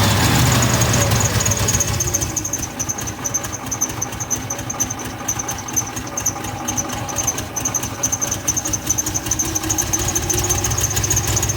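A Ford F-150's 4.9-litre 300 straight-six idles roughly, a loud, close, continuous low rumble with an uneven pulsing throb and a faint whine above it, with no talking.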